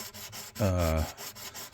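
Short, repeated rasping strokes of sanding on the metal frets of a Washburn D10N acoustic guitar, close and fairly soft, with a brief tonal squeak in the middle.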